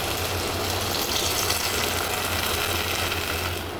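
Tamarind water squeezed out in about a cupful of water pours steadily into a prawn curry, a continuous close, even splashing gush that fills the whole moment without talk.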